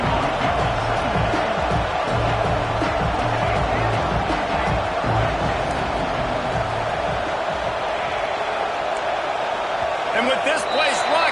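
A stadium crowd roars in College Football 25, a dense, steady wall of cheering that holds loud for the whole stretch, with a play-by-play commentator talking over it.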